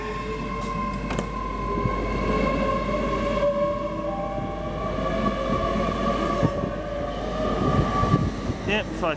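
A GWR Class 800 five-car train rumbles and whines as it pulls away from Reading toward London Paddington, its motor tone climbing steadily, with brief clunks and faint voices in the background.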